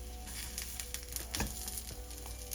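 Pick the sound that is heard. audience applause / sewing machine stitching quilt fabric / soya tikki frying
soya tikki frying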